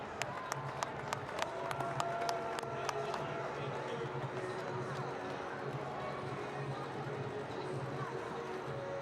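Crowd at a girls' state soccer championship applauding service award honorees, scattered claps at first settling into steady distant applause across a stadium, with a voice on the loudspeaker talking over it.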